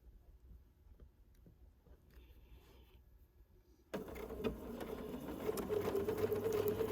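A sewing machine stitches a 1930s sampler spool quilt block. A few seconds of faint low whirring give way to a loud, steady mechanical hum and rapid needle chatter that continues to the end.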